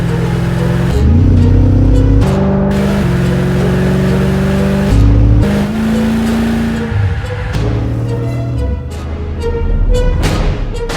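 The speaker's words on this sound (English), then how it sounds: "I drive an Aston Martin saloon," A 1986 Aston Martin saloon driven on Swiss Alpine roads, its engine droning loud and close, pitch rising and falling as it shifts gears and revs.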